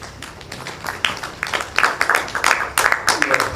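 Audience applause at an international scientific conference after a presentation, a steady patter of many hands clapping in a hall, moderately loud with irregular bursts and no clear speech.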